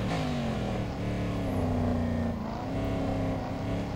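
A 2018 Aston Martin Vantage GTE race car engine at Daytona in the Real Racing 3 video game, droning steadily and loud at sustained high revs, with tonal harmonics that sag slightly and recover, with no talk.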